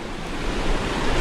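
Rushing water from a swollen river at a crossing, a loud steady broadband roar with no breaks, heard close and alone for about a second.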